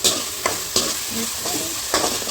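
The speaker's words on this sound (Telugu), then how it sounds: "ఇంకా చింతపండు పులుసు పోయాలి." Tamarind juice hitting hot oil in a pan of Andhra fish curry, a steady loud sizzle with a few sharp stirring scrapes and bursts, no voices.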